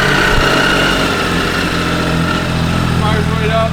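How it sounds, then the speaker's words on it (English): 2006 Triumph Sprint ST 1050 ABS motorcycle engine running at a steady idle after starting, a loud, close, continuous mechanical hum with a faint whine, with someone talking over it. "Fires right up, right to light. It's got a good sound to it."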